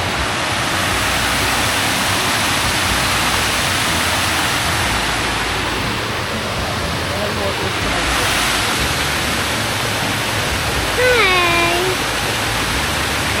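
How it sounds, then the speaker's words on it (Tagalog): Steady broadband rush of a stream flowing near a campsite in Tanay, continuous and moderately close across the whole stretch, with a voice briefly talking late on. "Batis."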